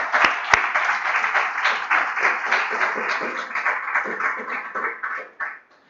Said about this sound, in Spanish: ¿Qué le parece si damos un aplauso a Cristo?